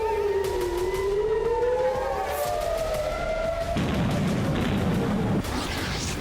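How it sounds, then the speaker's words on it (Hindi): Air raid sirens wailing over Israeli cities during Hezbollah rocket attacks, rising and falling tones layered together, loud and continuous, with a burst of heavy rumbling noise breaking in partway through. "हिजबुल्लाह के हमलों से इजराइल के कई शहरों में सायरन गूंजने लगे।"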